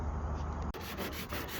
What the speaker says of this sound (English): So we're sanding down this high spot.